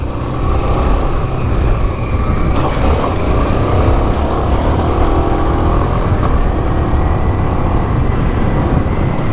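A 1984 Honda XL600R dual sport motorcycle engine roars loud and close while downshifting, a continuous, dense mechanical drone with rising and falling engine pitch and no talking.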